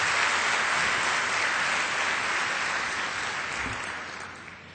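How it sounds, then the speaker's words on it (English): An audience applauds a Nobel laureate at a closing session, a dense, steady wash of clapping that holds loud for a few seconds, then gradually thins and fades. "we have to give a big applause to our Nobel laureate"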